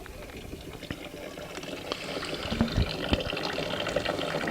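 Water runs steadily into a farm water trough in a barnyard, a soft continuous splashing and trickling heard at a modest distance.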